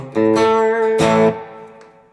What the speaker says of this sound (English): this is what the normal channel of an AC30 sounds like without anything in it